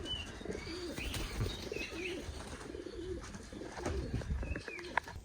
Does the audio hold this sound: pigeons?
yes